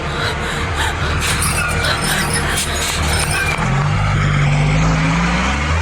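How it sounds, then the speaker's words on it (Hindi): A heavy truck rumbles past on a road in a loud, steady wash of low engine noise, with a rising drone near the end as it moves by. "ट्रक जाने दो।"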